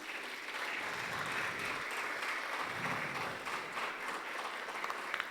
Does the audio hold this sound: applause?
yes